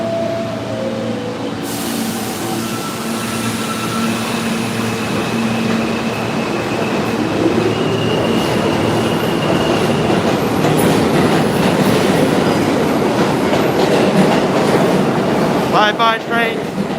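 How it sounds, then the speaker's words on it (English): A train rolls past in New York City beside a walk in Central Park, loud and close with rumbling wheels, clattering rail joints and metallic squeal building over several seconds, with a voice talking briefly. "Bye-bye, train."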